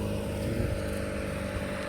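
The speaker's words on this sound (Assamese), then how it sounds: "বাইকৰ চাউণ্ড মাৰে" A motorbike engine hums steadily at a constant moderate pace on a road near Chandubi, its low, throbbing drone filling the whole stretch with no speech over it.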